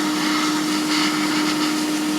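An airbrush sprays paint onto model aircraft fuselage halves while an air compressor runs, producing a steady, hissing airflow over a constant motor hum with a sharp tonal whine.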